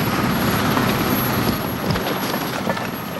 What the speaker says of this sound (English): the helicopter lifted off